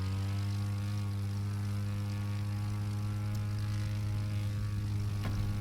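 A propeller plane skims low over trees in The Crew 2, its engine a steady, loud droning hum with strong harmonic tones, holding constant throughout with no talking.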